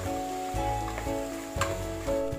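Brinjal with red chilli powder, salt and spices frying in a pan for a rice dish, a steady close sizzle with soft stirring scrapes and a few brief clanks, no voices.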